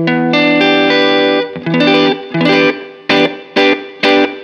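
Electric guitar strings strummed with a soft pick through distortion and chorus effects, a sustained chord ringing for over a second, then a series of short choppy strums separated by gaps, loud and close.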